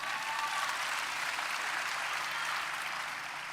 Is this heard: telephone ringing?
no